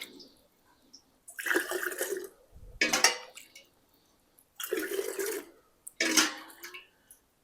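Homemade chicken stock poured into a glass canning jar in two separate pours, each a steady splashing gush of liquid lasting about a second, with quiet pauses between.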